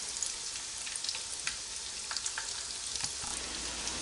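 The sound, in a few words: minced beef and potato rolls frying in oil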